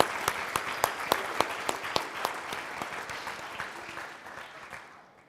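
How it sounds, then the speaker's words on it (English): An audience at a university Three Minute Thesis competition claps for last year's winners: steady, lively applause with crisp individual claps that gradually fades out. "how about a nice round of applause for last year's winners collectively?"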